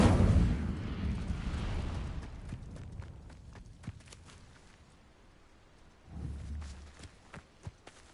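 Incendio fire spell cast in Hogwarts Legacy: a loud whooshing blast that rolls into a fading roar, then a quieter stretch of clicks and steps before a second fiery burst flares up near the end.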